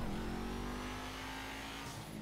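Ocelot F620 car in GTA 5 revving its exhaust, a loud, steady engine drone held close throughout a short burst, with no voice over it.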